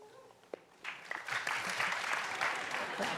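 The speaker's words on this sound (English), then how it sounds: "Applause, applause." An audience at a New York City mayoral forum bursts into steady applause after a brief quiet moment, the clapping swelling and holding at full strength.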